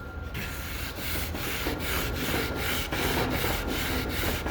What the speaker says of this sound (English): sand it back and forth, back and forth, back and forth.